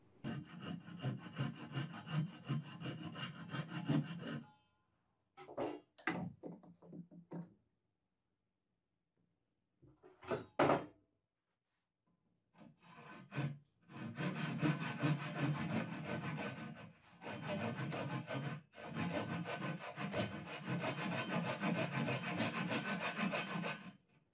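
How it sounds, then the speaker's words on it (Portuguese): A Japanese pull saw rasps through wood in long bursts of rapid strokes, close and loud, broken by a few pauses and short cuts. "cortada com serrote japonês"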